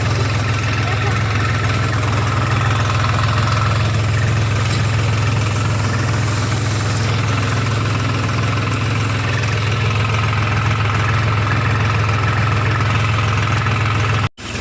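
A tractor engine idles steadily and loudly up close, a constant low rumble with vibration that runs unbroken until it cuts off at the end.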